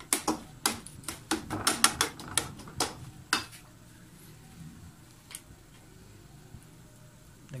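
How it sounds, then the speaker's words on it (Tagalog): Chopped tomatoes are stirred in a pan for chunky pizza sauce: a quick run of close utensil clacks against the pan, then only faint occasional taps over a soft background. "halu-haluin lang po para madaling madurog po ang ating pong kamatis"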